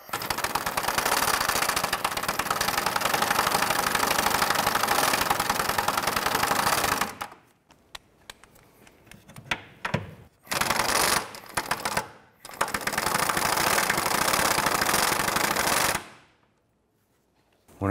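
An 18 mm deep socket loosens the rear cradle bolts on a 2006-2013 Chevrolet Impala. Loud, rapid, rattling mechanical bursts run for several seconds, then stop, and shorter bursts follow after brief pauses.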